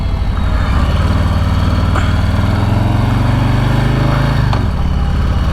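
A 2022 Harley-Davidson Street Bob 114 motorcycle engine throbs loud and close under acceleration, its deep pulsing note climbing steadily before a brief break as it shifts gear, then carrying on.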